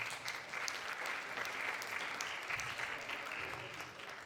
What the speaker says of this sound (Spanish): Fuerte el aplauso para Diego.